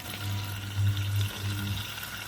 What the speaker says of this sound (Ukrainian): І будемо це все прожарувати в петельні